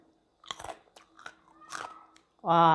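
Crunchy spicy tapioca chips are bitten and chewed in a series of crisp, close crunches, with a voice starting to talk at the end.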